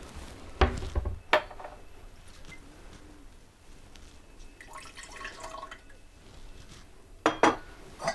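Glass jar handled and set down on a homestead while making kombucha, a few sharp clinks and knocks, near and distinct, with quieter rustling and faint trickling between them.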